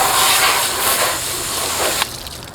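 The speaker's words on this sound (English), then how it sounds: "And now I'll go ahead and hose the inside." Garden hose water blasting inside a gutter downspout makes a loud close hissing rush for about two seconds before cutting off sharply, leaving a faint trickling tail.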